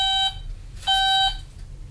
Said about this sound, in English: The screen will light up, it'll make two beeps